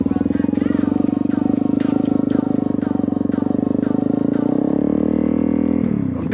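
A Honda CRF250L dual-sport motorcycle makes a U-turn in a parking lot, its single-cylinder engine thrumming steadily up close, then easing off as the bike slows near the end.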